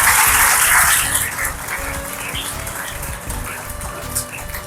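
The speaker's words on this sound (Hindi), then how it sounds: "तो अपने वास्ते ताली बजाओ जो तुम सुनते पे हो" A congregation claps at a Hindi/Urdu gospel sermon, a dense burst of hands that is loudest at the start and then settles into steadier, softer clapping with some room noise.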